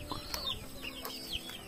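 Chickens cluck and chirp softly in short rising calls, several quick notes over faint background noise.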